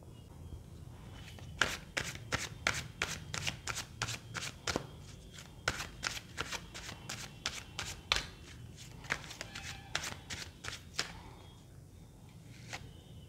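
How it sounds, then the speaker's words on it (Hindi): A deck of tarot cards is shuffled by hand up close, producing a long run of quick, crisp riffling snaps and flicks in a steady rhythm, fairly soft and alone. "तो सबसे पहले कार्ड शफलिंग और ग्रुप डिवीजन कर लेते हैं।"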